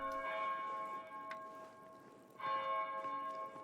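A tolling abbey bell in Pentiment sounds twice, with one bright strike near the start and another a couple of seconds later, each leaving long ringing overtones that fade slowly.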